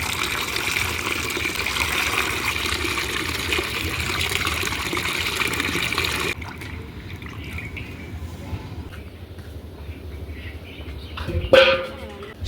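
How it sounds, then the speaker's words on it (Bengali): Malabar spinach leaves rinsed under an outdoor rooftop tap, a steady rush of running water that stops partway, followed by quieter drips and a brief handling clatter. "এখানে হচ্ছে একটা কল আছে, সেখানে আমি শাকগুলো ধুইতেছি।"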